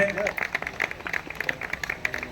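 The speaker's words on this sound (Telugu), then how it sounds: "చప్పట్లు కొడితేనేనండి" Audience applause at a Telugu celebration event, dense rapid clapping from a nearby crowd throughout, fairly loud, with a brief voice at the start.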